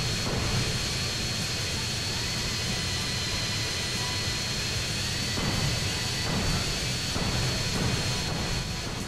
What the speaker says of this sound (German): ist ein Senkrechtstarter und man kann auch gerade landen wie ein Helikopter